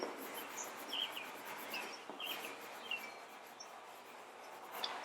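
Pencil scratches softly across paper in short strokes as a name is written, faint and close with no talk over it.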